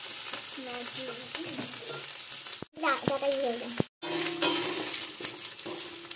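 Winter vegetables frying for khichuri in a wok, a dense sizzling hiss with stirring scrapes, broken by two brief cuts, while someone talks over the cooking.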